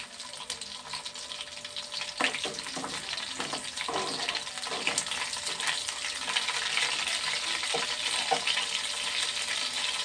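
Cumin, mustard seeds, curry leaves and dried chillies sizzle in hot oil with a steady crackling hiss, broken by occasional pops and the scrape of stirring.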